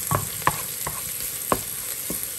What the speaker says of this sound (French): Je vais maintenant mettre l'ail. Je vais ajouter l'ail.